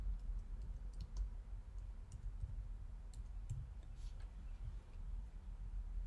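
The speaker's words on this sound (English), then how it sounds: "So I'm going to click on the plus again." Faint, scattered computer mouse clicks tap at an irregular pace over a low background hum during work in a desktop publishing program, quiet and close with no voices over them.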